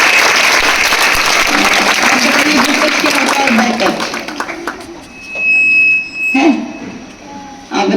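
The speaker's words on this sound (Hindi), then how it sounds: "इनके लिए तालियां बजाइए।" An audience at an academy event applauds for children, with loud, continuous dense clapping that thins out toward the end, a sharp electronic tone cutting in briefly, and voices heard over it.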